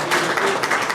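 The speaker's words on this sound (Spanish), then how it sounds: "Un aplauso." A short burst of applause from a crowd, many hands clapping together at moderate volume.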